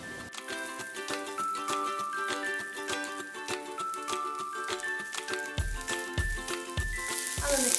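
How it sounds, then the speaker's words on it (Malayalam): Chopped onions dropped into hot olive oil in a home kitchen pan, giving a steady crackling sizzle throughout with faint tonal music beneath and a few low thumps near the end. "ഇതിലേക്ക് നമ്മൾ അരിഞ്ഞു വെച്ചിരിക്കുന്ന അണിയൻസ് ഒന്ന് ഇട്ടു കൊടുക്കാം"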